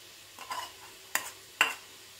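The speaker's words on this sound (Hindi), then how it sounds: "अब हमने जो लहसुन पीस के रखा था उसे डाल देते हैं।" Ground garlic drops into hot oil with a soft sizzle, followed by two quick, sharp scrapes of a spoon against the pan, all over in about two seconds and fairly quiet.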